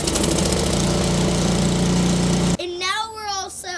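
A snowblower's motor runs after an electric start, a loud, steady close engine drone that cuts off suddenly partway through, followed by someone speaking.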